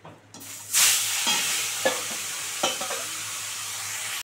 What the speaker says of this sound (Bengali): গোটা গোটা মাছ একদম এইভাবে ভেজে নিচ্ছি সব কটা